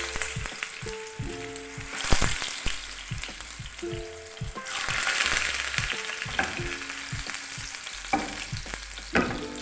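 Gola kababs fry gently in a little oil on a low flame, a soft continuous sizzle broken by repeated light knocks and scrapes, with faint steady tones in the background.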